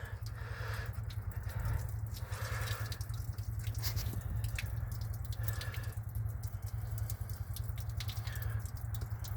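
Water draining out of a part on a 1965 Ford Thunderbird under rebuild, a soft continuous trickle and drip over a low steady hum, faint and unbroken with no talking.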